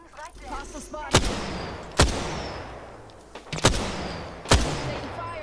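Gunfire in a battle royale video game: sharp, loud shots crack out at irregular intervals, several distinct bursts with ringing decays over a steady background of game ambience.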